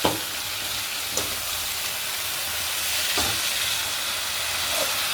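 Tomatoes with salt sauté for tomato chutney in a loud, continuous sizzle close by, with a few sharp scrapes of stirring and no voices.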